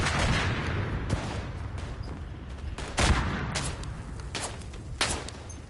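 Gunfire in a World War One video game: a steady din of distant rifle and machine-gun fire with several sharper, louder shots standing out about once a second, continuing without talk.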